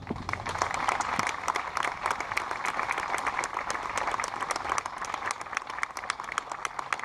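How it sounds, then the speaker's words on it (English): A crowd at a Patriot Day of Service ceremony in Bonita Springs applauds its first responders, a sustained, even roar of many hands clapping at close range for the full stretch, with no talk over it. "if we could please give a round of applause and recognition to our first responders"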